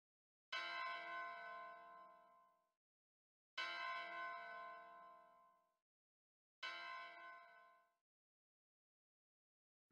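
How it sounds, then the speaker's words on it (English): A summoning bell in the video game Soul Nomad rings three times at even intervals, each clear, resonant strike ringing out and fading before the next, with nothing else heard. "Lady Lena's summoning bell!"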